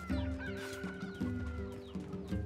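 Chickens clucking in the video game NieR Replicant, several birds giving steady rhythmic clucks over a looping game music bed, moderately loud with no talking.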